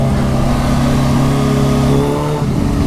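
A Kawasaki Ninja H2 motorcycle engine hums steadily and loud, pushing on with a slight rise in revs under small throttle inputs, continuous and close throughout.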